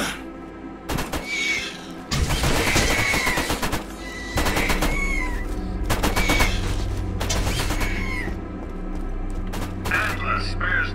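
Automated turrets in Borderlands fire rapid, loud bursts of gunfire in repeated volleys with short pauses between them, mixed with sharp cracks and other shooting and some game voice chatter.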